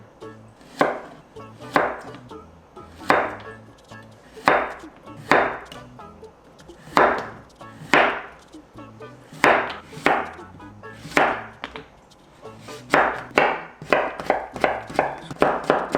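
A knife chops zucchini on a cutting board, preparing vegetables for savory pancakes. The steady, crisp thuds come close and clear, with short pauses between runs and quicker chops toward the end.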